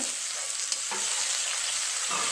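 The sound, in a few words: onions frying until reddish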